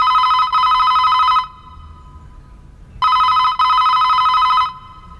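A telephone rings loudly in two long electronic bursts separated by a pause, a bright trilling ring with nothing else around it.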